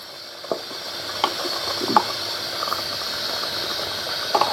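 A pot of chicken dum biryani bubbles and sizzles on the stove, a continuous hiss with scattered soft pops and small clinks, fairly close, no voices.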